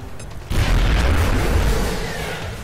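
Frag grenade explosion in the video game XCOM: Long War, a single loud, close boom that bursts suddenly and then rumbles off over about two seconds.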